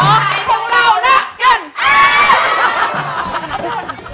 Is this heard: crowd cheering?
yes